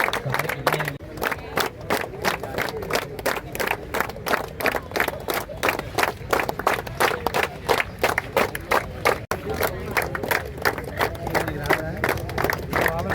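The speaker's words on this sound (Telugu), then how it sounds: "ఒకసారి గట్టి క్లాప్ కొట్టాలనుకుంటారు" An audience at a youth sports event attended by a minister claps hard in a fast, steady rhythm, the loud, even beats running for the whole stretch with crowd noise under them.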